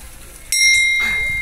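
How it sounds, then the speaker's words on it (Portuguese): A small bell at a building entrance rings once with a bright metallic strike, close and loud, its tone ringing on and slowly fading, with faint talk before it. "Tem um sininho."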